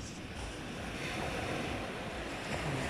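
Ocean surf washes steadily onto a beach in a continuous broad roar, with wind buffeting the microphone throughout and no voices.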